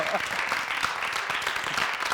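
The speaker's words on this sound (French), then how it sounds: "vais demander beaucoup d'applaudissements pour Agozo." Studio audience applause on a Burkinabé television comedy show, a steady wash of many hands clapping at moderate level, with a voice faintly present underneath.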